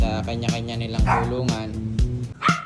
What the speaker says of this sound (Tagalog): minimize natin yung ingay ng aso